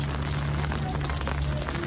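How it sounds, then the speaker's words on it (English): Rain pours down during a children's outdoor rain bath, giving a steady, dense patter and hiss of drops. A low, constant hum sits underneath the rain. "We're playing in the rain."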